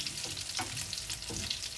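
Coconut-coated shrimp fry in a pan and get flipped, a close, steady sizzle broken by a few soft scraping turns, no speech.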